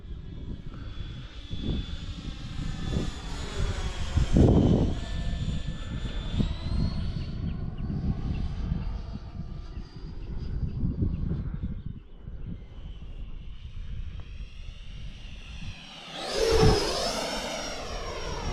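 Whining turbine of an E-flite Viper 90 model jet roars continuously nearby, pitch sweeping up and down, with a loud surge near the end; no talking.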